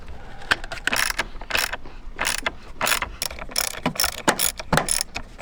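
A ratchet tightening the battery terminals on a Mazda car, with a close, loud run of quick clicking bursts and short pauses between turns, and no voices.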